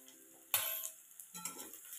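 Sliced onion hits hot oil in a pan with ginger slivers and dried red chilli, giving a sudden sharp sizzle that fades, then a second softer burst of hissing and crackle.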